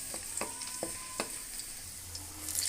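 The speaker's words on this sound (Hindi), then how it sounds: "लहसुन की तुरियाँ डालें। हल्का हल्का सा इसको ब्राउन कर लें।" Garlic cloves fry in about half a cup of oil, producing a quiet, even sizzle broken by a few sharp stirring clicks, close and with no talking.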